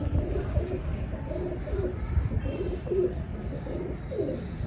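Pigeon cooing, soft repeated coos from a Sialkoti cross pigeon, moderately close, in a steady rhythm over low background noise with no talk.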